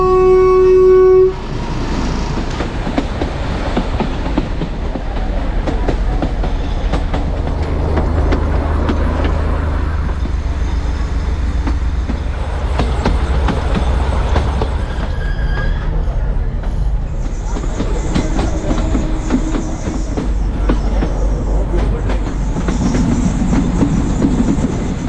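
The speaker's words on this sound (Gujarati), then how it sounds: "બિલીમોરા ટુ વઘઈ, જે હેરિટેજ ટ્રેન ચાલી રહ્યું છે, જેને ગુજરાતની ટોય ટ્રેન પણ કહેવામાં આવે છે" Bilimora to Waghai heritage toy train in Gujarat rumbles along steadily, a dense, continuous loud clatter of narrow-gauge wheels and carriages with a brief horn-like tone at the start.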